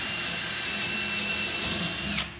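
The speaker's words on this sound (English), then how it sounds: "And then you drill through." Milwaukee drill boring through wood, a steady mid-level whine with a brief louder bump near the end before cutting off.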